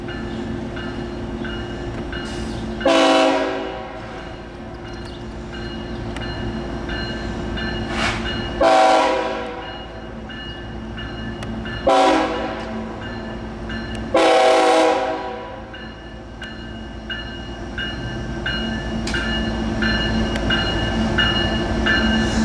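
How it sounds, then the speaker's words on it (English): CSX M317 manifest freight train street running slowly through St. Marys, West Virginia, sounding four loud horn blasts of varying length over a continuous low rumble of rolling cars and engine. "This will be CSX M 31703."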